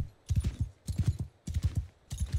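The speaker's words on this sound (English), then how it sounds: "And the world's fastest horse." Horse hooves galloping in the Bannerlord video game, with four rapid bursts of heavy thudding hoofbeats in a steady rhythm, close and loud, with no talk.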